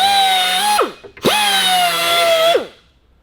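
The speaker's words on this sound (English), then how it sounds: "just run the Dremel round them to clear all the burrs up" A Dremel grinds burrs off the metal edges of king pin and bushing parts on a 1934 Buick. It makes two close, high-pitched whining runs, and each one winds down sharply at the end.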